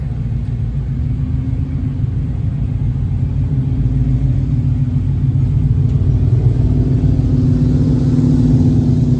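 A Chevrolet rolls past at the Cruisin the Coast car show in Biloxi, Mississippi, its deep engine rumble steady and close, swelling slightly as it moves along.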